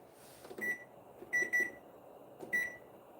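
Microwave oven timer being set, four short high-pitched electronic beeps in an uneven pattern, close and clear over a quiet kitchen background.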